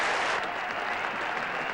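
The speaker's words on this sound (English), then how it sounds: "The England players come out to applaud what really has got to be a moment here of cricket history." Steady applause from a cricket crowd and players as England's team walks out to honour a historic moment, a dense continuous wash of clapping that stays level throughout with no voices.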